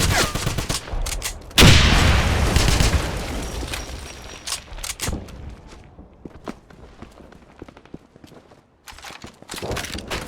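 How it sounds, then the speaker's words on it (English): A grenade blast in the Wolfenstein video game, a loud booming explosion followed by scattered gunfire, clanks and footsteps in a noisy combat scene. "Heads up! Grenade!"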